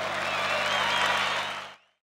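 Dense stadium crowd applause and roar at a rock concert, loud and sustained before cutting off abruptly into silence.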